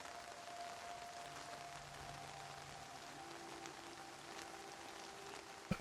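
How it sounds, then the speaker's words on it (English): Steady rainfall pattering over a desert area in the video game Nightingale, a quiet, even wash of drops running throughout with no let-up and a faint tonal hum beneath. "it's a desert, but it never stops raining"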